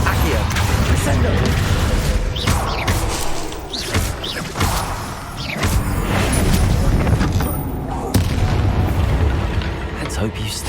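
Spell combat in Hogwarts Legacy, with dense, continuous booming blasts, crackling impacts and whooshing magic effects layered over game music, loud and busy throughout, with a voice calling out over the action.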